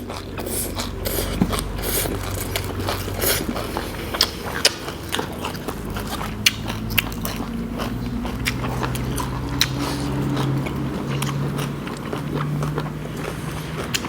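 Crunchy fattened-beef tendon is bitten and chewed close up in a spicy salad meal, giving repeated wet, gristly crunches and clicks in an uneven chewing rhythm.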